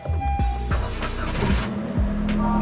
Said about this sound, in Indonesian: seperti ini bunyinya turbo